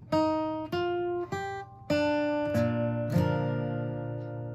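Guitar playing a riff at full speed, a series of about six crisp plucked chords struck in a quick rhythm, the last one left ringing out, close and clear with no talking.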